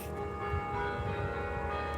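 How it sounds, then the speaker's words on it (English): Chimes ring out a slow minor-key melody, with sustained overlapping tones and a steady resonant wash, fairly loud and close with no voices. "this like eerie sounding song or minor key song sounds really good on chimes"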